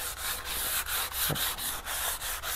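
Hand sanding along the edges of a fire-hardened hickory self bow, a close, steady rasp of abrasive on wood in even back-and-forth strokes, about two or three per second, with no talking.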